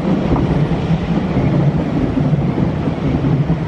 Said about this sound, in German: Die HLB fährt gerade ein.